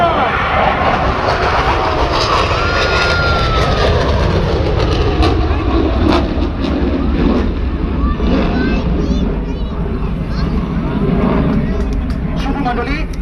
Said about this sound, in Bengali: ইনভার্টেড ফ্লাইট প্রদর্শনের পর MiG-29 বিমানটি এখন অবস্থান নেবে